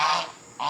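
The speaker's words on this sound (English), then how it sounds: "The geese are over here in the front yard." Geese honking in a front yard, two short nasal honks close by separated by a brief pause, no talking.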